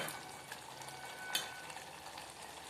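A broad bean and tomato curry sizzles and bubbles in a pan as it finishes cooking, a quiet steady frying hiss with a few faint clinks and stirring sounds.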